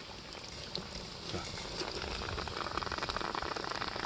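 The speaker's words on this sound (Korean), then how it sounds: "대통에서 고기 익는 소리." Soft, steady crackling sizzle of pork neck cooking inside a bamboo tube at a garden barbecue, dense and continuous like frying, heard up close at low volume with no talking.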